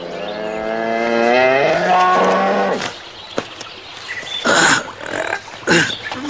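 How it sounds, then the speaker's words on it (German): A bull lets out a long, loud, close moo lasting nearly three seconds, followed by rustling, a sharp knock and several short outdoor noises. "Zumindest haben wir den Stier gefunden"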